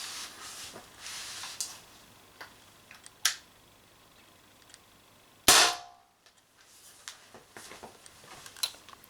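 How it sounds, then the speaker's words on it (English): Sharp, isolated cracks from an Umarex TP50 air pistol firing steel balls, a few spaced shots with one loud close report followed by quiet. "That was 6 shots."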